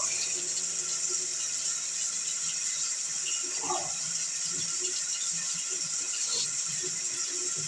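Tap water runs steadily as mustache wax is rinsed out, a continuous close rush of flowing water with faint rattles, and no talking.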